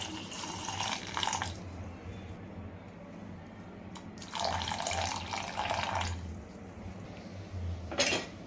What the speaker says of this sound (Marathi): त्यानंतर पाणी घालते